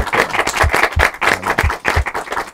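A studio audience on a Persian radio quiz show claps loudly and in rhythm, a close, even beat of hand claps with low thumps, and no speech over it.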